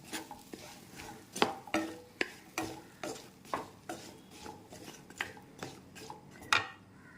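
Vegetables stirred in butter in a pan, a steady run of scraping utensil strokes roughly every half second with light sizzle beneath, close and moderately quiet, no talking.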